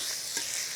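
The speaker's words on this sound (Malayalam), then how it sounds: "ഇതെല്ലാം നല്ലോണം മിക്സ് ചെയ്യുക." Chicken pieces with coriander powder, garam masala and salt stirred in a hot pan for chicken pulao, a brief close sizzle with a soft scrape of stirring.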